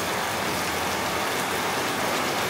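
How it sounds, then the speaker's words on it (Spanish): A heavy rain shower pours down steadily during a village festival, a dense, loud, unbroken hiss of rainfall with no voices. "Mira el aguacero. Está lloviendo bastante."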